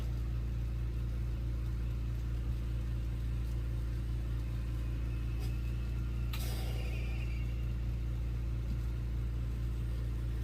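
An electric mandrel spinner turning a glass bead gives a constant low motor hum, quiet and unchanging throughout, with a brief faint scrape partway through.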